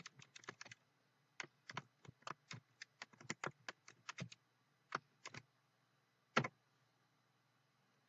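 Keystrokes on a computer keyboard during data entry, quiet scattered clicks in short irregular bursts with gaps between, close and alone.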